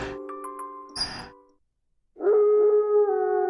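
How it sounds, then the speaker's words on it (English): A sustained animal howl from the horror mystery game Raging Loop rises loud and steady after a brief silence, preceded by chiming bell-like tones and a short burst of noise. "A howl."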